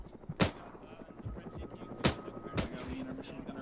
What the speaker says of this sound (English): We're taking shots from behind the bushes.